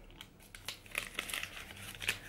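A package of gum being opened, its paper wrappers crinkling and rustling in quick irregular bursts, close but quiet, with no talk.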